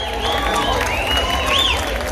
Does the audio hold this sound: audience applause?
yes